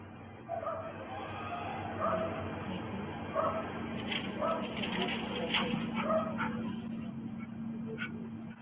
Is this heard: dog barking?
yes